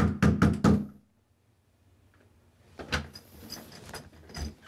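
Four loud, rapid knocks on a door by a sheriff's deputy, close and sharp, followed by quieter rustling and movement with faint thuds.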